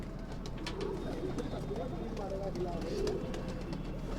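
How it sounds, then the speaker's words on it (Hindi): Low, soft cooing of bred pigeons repeats intermittently against a steady background hum, with faint voices talking nearby. "बिल्कुल सारे एक नंबर के कबूतर।"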